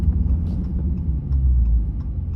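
A low, steady Dodge Charger Hellcat engine rumble with a whooshing, windy quality, heard from inside the moving car with no talking.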